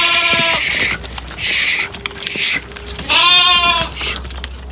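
Female lambs of a tall breed bleat repeatedly at a livestock sale, several distinct calls from close by over quiet background noise.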